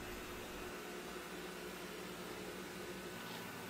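Robot vacuum cleaner with mop attachment wet-mopping a floor in a small six-tatami one-room apartment, giving a quiet, steady broadband whir and hum that runs unbroken with no talk.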